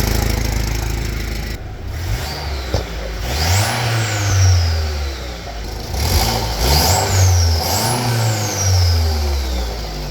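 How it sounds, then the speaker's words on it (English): A 2012 Chevrolet Cruze 1.4L turbo engine with an exhaust leak revs up and down repeatedly with a raspy, puffing exhaust note, loud and close, with no talking. "I can definitely hear the exhaust leak"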